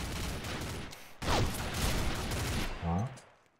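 Rapid bursts of Biohazard gun fire ring out in the online shooter Combat Arms, loud, dense and continuous, with a brief tonal game effect partway through.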